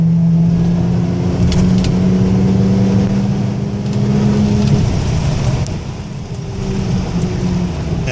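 A 1992 Oldsmobile Toronado Trofeo with freshly repaired exhaust accelerating hard on a road test, giving a loud, steady engine drone heard from inside the car that rises and dips slightly, with no talking.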